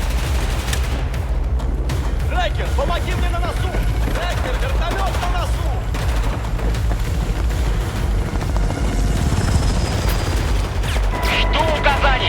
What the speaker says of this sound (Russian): Райкер, вертолет на носу!